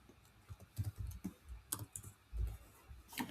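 Keys clattering on a computer keyboard as a page name is typed into WordPress, an irregular run of quiet close-up clicks and taps with no voices.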